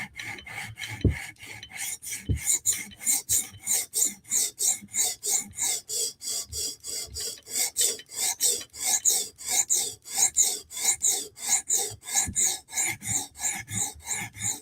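A knife blade, a Para 3 or Benchmade 940, is stroked across a stone on a TSProf Kadet sharpener in quick, regular rasping passes, close and clear, about two strokes a second with a few soft knocks.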